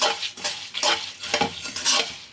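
Puffed rice stirred in a frying pan over low heat, a rhythmic scraping and rustling of crisp grains repeated about five times in quick strokes, close and clear with no talk.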